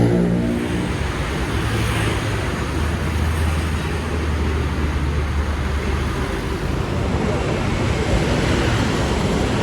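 A car pulls up amid steady traffic near a terminal in Grogol, with a continuous loud rumble of engines and road noise throughout, close and unbroken.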